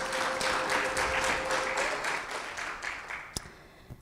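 A church congregation claps together in a brief burst of applause, dense and fairly loud, then quickly tapering off to a few scattered claps and room noise.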